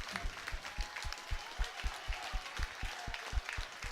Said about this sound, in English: Falkirk fans applauding their players off the park, the players doing likewise